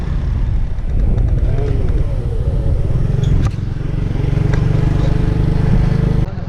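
Motorcycle riding through the Nathia Gali bazaar, a steady loud engine drone with wind rush close up that dips briefly mid-way and holds, while people talk over it.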